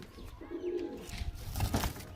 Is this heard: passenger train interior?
no